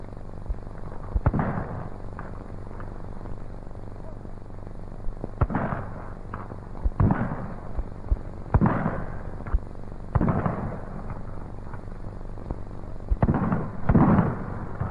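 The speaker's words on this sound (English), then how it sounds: "We'll show you a little clay pigeon shooting." Shotguns fire at thrown clay pigeons at a 1935 shooting ground, sharp booming reports coming one at a time at irregular intervals, about eight shots over a steady hum of old film noise.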